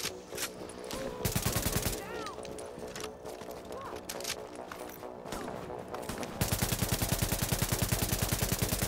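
Sustained rapid gunfire in The Division, laid down to suppress snipers in Times Square. A burst near the start and a long steady rattling volley at the end, with scattered game sounds between them and a voice talking.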